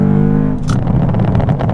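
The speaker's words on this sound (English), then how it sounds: "It was the Gentani exhaust system, and he also had a Gentani burble tune on it as well." A BMW M car with a Gentani exhaust and Gentani burble tune revs with a droning note, then drops into a rough, crackling burble of uneven pops, close and loud.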